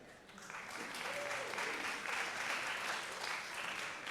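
Faint, distant audience applause filling a large auditorium theater at an alumni luncheon, a steady wash of clapping with no voices over it.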